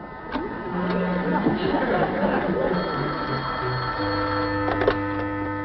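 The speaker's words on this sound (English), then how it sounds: "Get me Margie Albright on the phone" A telephone rings in a sitcom scene, with bell-like tones sounding near the end under chatter, laughter and ongoing talk.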